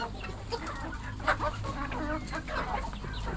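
Several chickens clucking nearby on a farm, scattered overlapping calls over a steady background hum.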